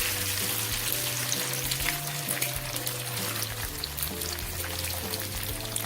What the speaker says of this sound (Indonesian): Kita goreng sampai selesai telurnya.